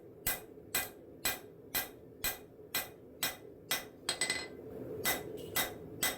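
Blacksmith's hammer blows ring on forged knife steel over the horn of an anvil, smoothing out small divots: about a dozen sharp metallic strikes in an even rhythm, close and loud.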